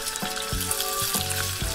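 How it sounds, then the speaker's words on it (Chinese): Marinated chicken pieces sizzle skin-down in a hot oiled pan, a close, steady frying hiss with small pops and a few soft knocks as pieces go in, no talking. "然后把腌好的鸡块一个个皮朝下放入锅里开始煎"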